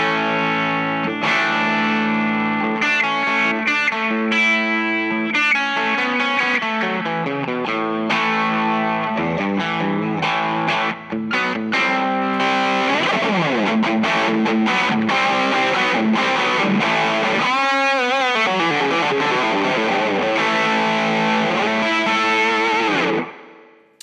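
Electric guitar through an Axe-Fx 3 amp model with a bright, high-gain distorted tone, played loud and continuously as sustained chords and riffs with bends for about twenty seconds before it cuts off.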